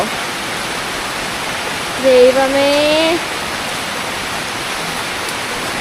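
Steady heavy rain hisses throughout, loud and continuous, with a short exclaiming voice briefly rising over it partway through.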